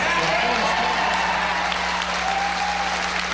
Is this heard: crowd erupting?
yes